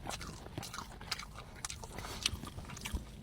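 Crispy crust of barbecue beef being bitten and chewed up close, with faint crunches and scattered crackles over a quiet room background, no talk.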